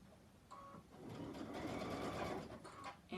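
A sewing machine stitches binding along the edge of a quilted project, its motor whirring steadily at close range with a brief pause and restart as the corner is turned.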